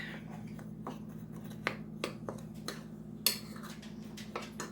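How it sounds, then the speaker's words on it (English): Dry ingredients for vegan chocolate chip cookies being stirred in a bowl, with light scraping and several sharp utensil clicks against the bowl over a steady low background hum. "I'm just going to mix together my dry ingredients"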